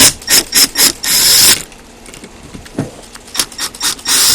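Long screws being removed while stripping down a rotator, with a quick series of metallic ratcheting clicks up close, a quieter pause, then another burst of clicking.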